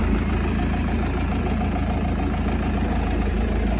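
A TCM FA35D diesel forklift engine idles steadily with a low, even rumble, close and continuous, with no talking.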